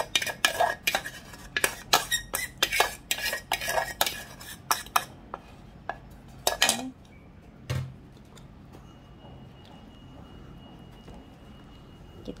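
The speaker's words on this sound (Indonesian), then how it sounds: "Kita aduk rata." Banana cake batter with melted butter being stirred in a bowl, giving a run of quick clinking, scraping utensil strokes close by for about seven seconds, then a single knock before near silence.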